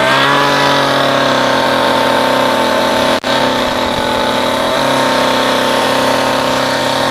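A Stihl MS 211 chainsaw with a weak, low-RPM idle runs steadily after a restart, holding a loud, even mid-pitched drone for several seconds with one brief momentary dip partway through.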